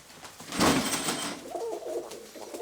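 A pigeon coos softly nearby, a low throaty burble following a brief rustle.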